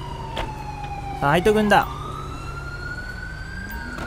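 Emergency vehicle sirens wail continuously at a crash scene in the video game GTA5, where a fire truck is present; a steady gliding tone runs throughout while someone speaks briefly over it in the middle.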